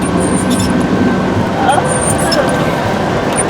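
Steady low rumble from inside a moving bus on a snowy road, engine and road noise droning continuously and fairly loud, with faint background chatter.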